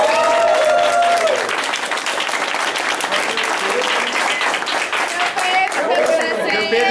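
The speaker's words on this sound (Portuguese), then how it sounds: "Uma salva de palmas." An audience gives sustained applause at a community gathering of social workers, students and homeless people in Brazil. The clapping is dense, loud and continuous, with voices and chatter mixed in.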